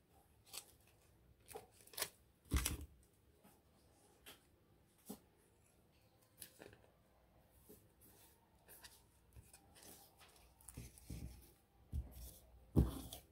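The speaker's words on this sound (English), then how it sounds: "Trim all around." Scissors snip around a handmade snow globe Christmas ornament in short, quiet, separate cuts with pauses between them, close and alone against a soft background.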